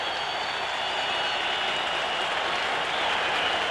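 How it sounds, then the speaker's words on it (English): A packed football stadium crowd roars steadily at halftime of a 1979 Cowboys–Giants game, a dense sustained wash of cheering and applause with no break. "Another standing ovation for this team. And listen to the crowd."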